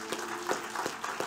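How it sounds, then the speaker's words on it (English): A church congregation claps hands together in a soft, fairly distant patter of applause with loosely rhythmic clap bursts, brief and low in level. "Let's give the Lord a hand clap."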